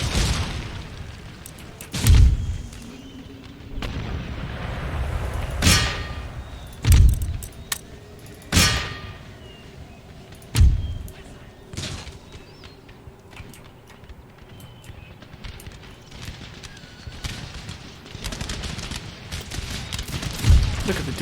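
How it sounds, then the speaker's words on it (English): Mortars fire in an Empire Total War battle, a series of deep booming thuds scattered at irregular intervals over a rumbling battlefield backdrop. "Oh my gosh, look at these mortars,"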